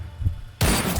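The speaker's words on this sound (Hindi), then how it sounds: "गोली चला दे।" A sudden loud blast cuts in halfway through after near quiet, a single sharp gunshot-like burst that rings on to the end.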